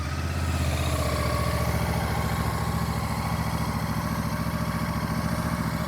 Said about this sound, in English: Fires right into life, runs super smooth. Exhaust is nice and clean.